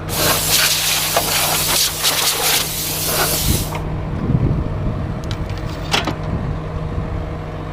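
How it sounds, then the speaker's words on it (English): Air compressor on a wood chipper's air system gives a loud close hiss that stops partway, leaving a running engine rumble with a few sharp clanks. "This is our air compressor right here."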